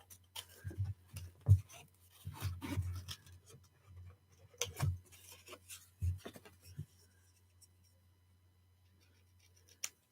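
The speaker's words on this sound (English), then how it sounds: "I'm just going to cut a couple kind of circle-esque type shapes" Scissors snip rough circle shapes out of paper in quiet, irregular bursts of crisp cuts and rustles, close by over a low steady hum, then fading into near silence.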